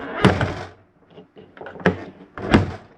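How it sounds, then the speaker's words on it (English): The door of a 2022 Jayco Jay Flight 24RBS travel trailer swings shut onto its slam lock, giving a few loud, close thunks and latch clacks spread over a few seconds. "And as that comes in, close the door."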